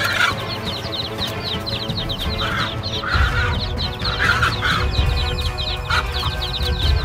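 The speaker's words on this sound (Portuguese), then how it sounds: "a galinha espantando o temido falcão" A hen clucks loudly and repeatedly as she drives off a hawk, with agitated bursts of fowl calls continuing throughout, close and clear.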